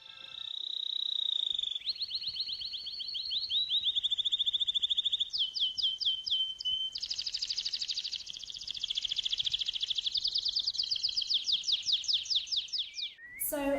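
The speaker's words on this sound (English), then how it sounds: "the reason why I have bird songs playing in the exhibition" Recorded bird songs play through an art exhibition space, a continuous run of high, rapid trilling and chirping phrases that shift pitch every few seconds, steady and moderately faint.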